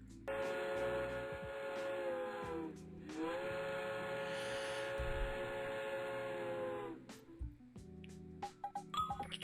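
A video game train's steam whistle blows loud and sustained twice, a long blast followed by a second after a short break, then trailing hiss and scattered clicks near the end.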